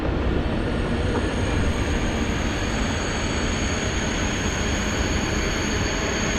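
Train running close by: a loud, continuous rumble and rush of wheels on track, steady throughout with a faint high squeal, no voices.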